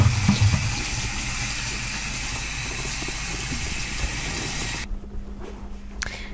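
Hot water runs from a tap in a steady, broad rushing stream for several seconds, then abruptly shuts off, leaving a faint low hum. No voices.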